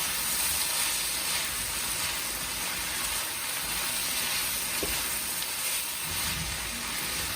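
Garlic cloves sizzling steadily in a hot pan, a continuous close frying hiss with no talk.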